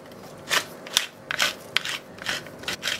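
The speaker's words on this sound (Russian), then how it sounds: "И сверху я вот смелю перчиком, крупными кусочками, такими перчик," Coarse black pepper is ground by hand over tomatoes being marinated in a bag, giving a series of short dry crackling, rasping bursts in irregular rhythm, close by and fairly quiet, with no talking.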